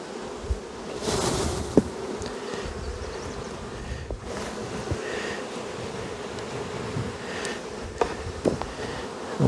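Honeybees buzzing around open hive colonies, a dense, steady drone of many insects close by, with occasional louder passes and light clicks of handling frames.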